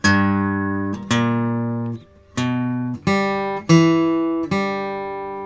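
Guitar playing the third measure of Frankie and Johnny: six clear plucked notes and chords in a steady rhythm, each ringing and decaying, close and alone.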